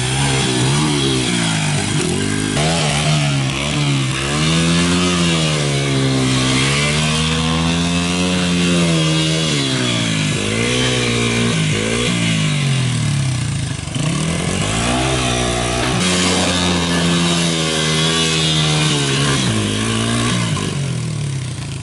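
Motorcycle engine revving wide open in second gear near a DIY skatepark, a loud, close, continuous buzzing engine whose pitch rises and falls repeatedly over about twenty seconds.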